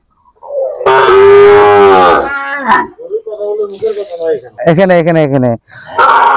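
A Sahiwal bull calf moos loudly and close, several long deep lowing calls with short breaks between them.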